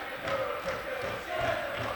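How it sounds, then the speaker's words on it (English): Crowd at a futsal arena during a varsity match cheering and chanting, a diffuse roar with rising shouts, moderately distant and steady throughout. "Gloucester crowd again trying to raise the atmosphere inside the arena"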